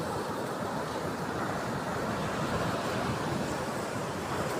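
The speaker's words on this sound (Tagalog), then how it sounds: "dito ulit tayo sa tabing dagat at malakas pa rin ang alon" Strong sea waves break on the shore as a loud, constant roar of surf mixed with wind buffeting the microphone, with no speech over it.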